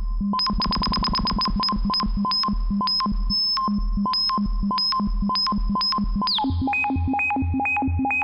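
An electronic synth tone from a Soundforce Dual LFO stepped triangle wave, jumping between pitches in abrupt steps, with rapid stuttering pulses at first, then a choppier stepped pattern that shifts lower near the end.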